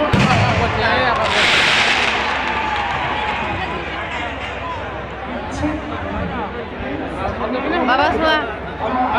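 Firecrackers bursting at midnight amid a lively crowd, a dense continuous crackle and pop of explosions close by, running under constant shouting and chatter of people.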